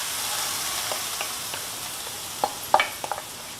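Grated mango ginger frying with mustard seeds in hot sesame oil, a steady close sizzle with a few sharp pops and crackles near the end.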